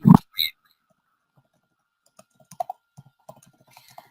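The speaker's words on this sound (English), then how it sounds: "While I'm typing this," Typing on a computer keyboard, a few loud knocks at the start, then a sparse run of soft, close clicks.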